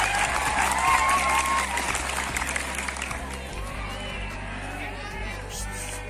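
Students at a junior high school gathering applaud for the class 8 representatives. The clapping is diffuse and somewhat distant, mixed with crowd murmur and voices, and tapers off toward the end.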